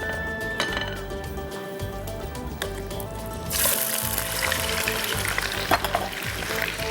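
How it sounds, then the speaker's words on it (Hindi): Chicken pieces and garlic frying in a pan, a steady broad sizzle running throughout that grows louder and brighter partway through, with occasional soft clinks of a utensil. "चिकन को थोड़ा सा उसका कलर सफ़ेद होने तक हमने उसको भून लेना"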